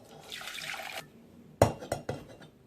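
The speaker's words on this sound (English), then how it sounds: "Add the Guinness" Guinness poured into a Jamaican spiced bun mixture gives a soft liquid rush lasting about a second, then a few sharp clinks and knocks, like a can or glass touching a bowl.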